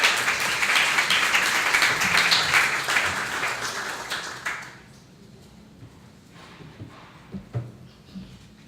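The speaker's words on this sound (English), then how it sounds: "let's give Deneka a big round of applause to welcome her and all the other" An audience at a literary festival panel applauds to welcome a panelist, with dense clapping for about four and a half seconds that fades out, followed by quiet room noise and a few faint taps.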